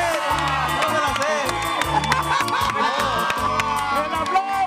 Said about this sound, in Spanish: ¡El aplauso para Jesús Ojeda!